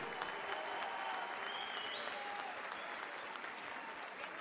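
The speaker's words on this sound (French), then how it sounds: "je voudrais qu'on les applaudisse avant tous les 2 comme il se doit" Crowd at the Palais des Sports in Marseille applauds two boxers after an influencer boxing fight, a steady, fairly distant wash of many clapping hands sustained throughout with no break.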